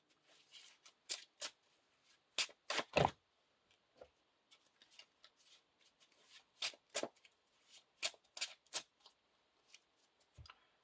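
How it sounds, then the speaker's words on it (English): A deck of cards for The Lord of the Rings LCG is riffled and shuffled in quick crisp bursts, a few loud flurries followed by lighter intermittent riffles and taps, close up with no talking. "Shuffle Elrond's Council into the first player's deck."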